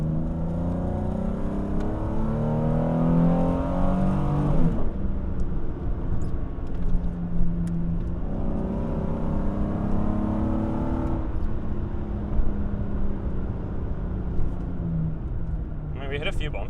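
A Nissan 350Z with a budget suspension setup driving over a series of bumps, heard from inside as a steady engine drone with tonal whine that shifts as it accelerates, with road rumble throughout.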